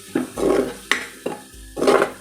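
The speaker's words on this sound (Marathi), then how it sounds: "मसाला चांगला आपल्याला परतून घ्यायचा आहे" Spatula scrapes and stirs spice masala in a pan, several bursts of scraping with faint sizzling between strokes, close and fairly loud.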